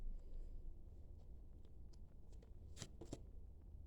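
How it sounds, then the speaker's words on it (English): Tarot cards shuffled by hand at close range, quiet papery riffles and soft slaps in short irregular bursts, a couple of sharper snaps near the end, over a low background hum. "hold on one second, I'm just going to shuffle a little more."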